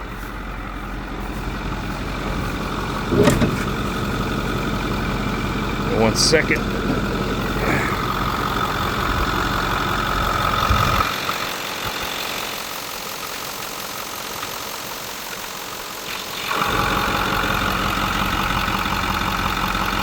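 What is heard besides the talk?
2009 Ford F-550 6.6L diesel truck engine idling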